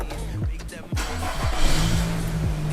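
Nissan X-Trail 2.5 VL 4WD from 2015 starting with its push-start button, a brief crank followed by a steady engine idle, heard close by under someone talking.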